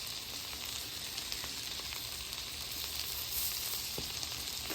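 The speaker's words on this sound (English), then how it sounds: "I'm gonna toast our brioche buns. All in that butter." Brioche buns toasting in tarragon lemon butter in a pan, a steady close sizzle and crackle of frying butter running evenly throughout with no talk.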